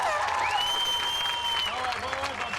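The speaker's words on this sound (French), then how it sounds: "Une bonne main d'applaudissement pour celui qui vient chercher cette victoire, Sébastien Goujon." A crowd claps steadily throughout while a voice speaks over it, the applause continuous and fairly close.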